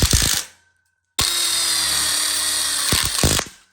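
A power drill drives screws into angle iron in two loud bursts of whining motor, with a short silent pause between and a mechanical clatter at the end.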